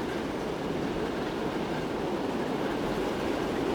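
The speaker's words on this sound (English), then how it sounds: "I can hear another train." A Pullman train rolls by in a 1920s UK rail scene in Transport Fever 2, giving a steady, dense rumble of wheels and carriages that holds at an even loudness throughout, with no talking.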